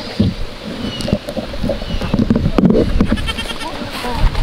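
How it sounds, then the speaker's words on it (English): Goats on a farm bleat several times in short, nasal bursts at close range, mixed with rustling movement, wind and handling noise. "It's amazing what food does to these wild goats."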